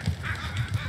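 Geese honking in an open field during potato planting, a few short, rough calls in quick succession at moderate distance over a low rumble.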